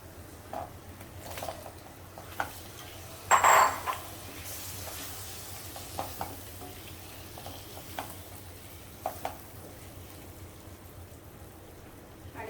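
Prawns going into a garlicky Agri-style masala over medium to high heat, a soft low sizzle broken by scattered spatula taps and one brief louder clatter, fairly quiet and without speech.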